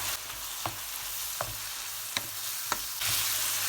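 Regular scraping stirs of a spoon through a tomato sauce sizzling in a pan, about one stroke every second, close by over a steady frying hiss.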